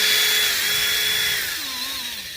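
Whining power tool fitted with a polishing attachment buffing a car headlight, its motor pitch wavering and dropping toward the end, loud and close with no voices.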